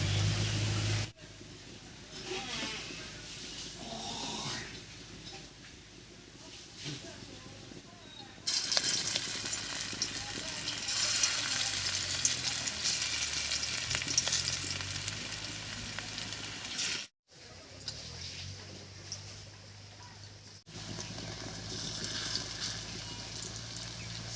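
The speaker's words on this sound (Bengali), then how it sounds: "এবার ছোট ছোট করে বড়াগুলো ভেজে নিচ্ছি" Thankuni leaf fritters fry in hot mustard oil in a wok, a steady bubbling sizzle that swells louder midway and continues for a long stretch, with brief pauses and faint voices.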